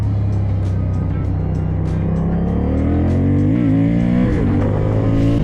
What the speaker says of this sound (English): To get the best out of this bike, it needs to be revved.